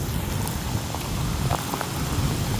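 Heavy rain pours during flooding in Lahore, a dense, steady hiss of falling water filling the whole stretch with no pauses, close and loud.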